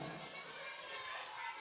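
Many children chatter and play noisily at a church children's ministry Christmas party, a steady dense wash of young voices filling the room.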